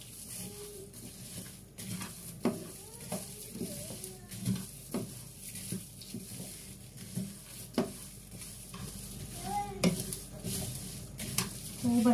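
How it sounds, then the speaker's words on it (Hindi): Masala roasts in a pan for a Ramadan dish, with repeated scraping stirs and clinks of a utensil over a low sizzle and some faint background sounds. "ये हम मसाला जो डाल रहे हैं, अभी हम भूनेंगे।"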